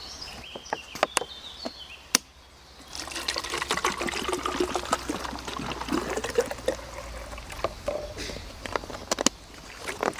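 Water pours into a Katadyn MyBottle filter bottle, a steady splashing trickle that follows a few sharp plastic clicks and knocks while the bottle is handled.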